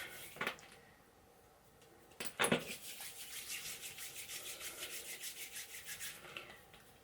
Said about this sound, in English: I'm going to rub it in between your hand and pat it on your skin.